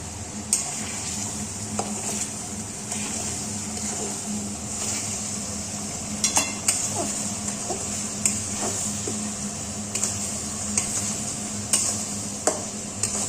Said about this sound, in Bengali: এবার একটু নাড়িয়ে নিই নালে মশলাটা নিচ থেকে পুড়ে যাবে